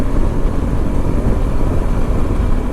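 A Suzuki V-Strom 250 motorcycle engine fitted with an NGK iridium spark plug runs steadily and loudly, a continuous close-up drone with no talk.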